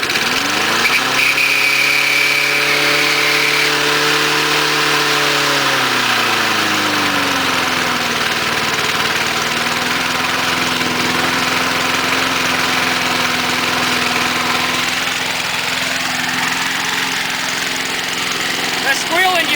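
An MTD Panzer engine with an automatic choke, cold-started with the throttle set high, roars loudly at first, then settles into a steady, close idle that drones on unbroken with a faint high whine above it.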